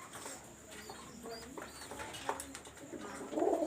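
Soft pigeon cooing murmurs among faint rustling and scattered background noise, fairly quiet and unhurried, with a brief louder flurry at the end.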